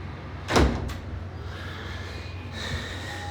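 A door is opened, giving a sharp loud clunk near the start followed by a softer thump, with low steady background rumble and some faint noise afterward.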